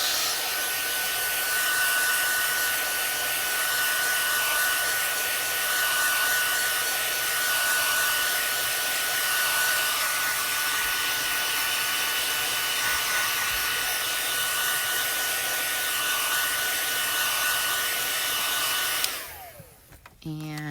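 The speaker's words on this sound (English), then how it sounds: "I'm going to heat set this now." A heat tool heat-sets ink on a stamped card, blowing a steady, loud, close whirring roar for about nineteen seconds before it winds down and shuts off near the end.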